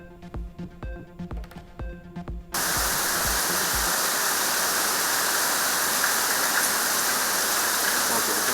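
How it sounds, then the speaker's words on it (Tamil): Heavy rain with strong wind in Chennai and Vellore pours down as a dense, steady roar, arriving abruptly after a short stretch of music and continuing unbroken and loud. "சென்னை மற்றும் வேலூரில் பலத்த காற்றுடன் வெளுத்து வாங்கிய மழை"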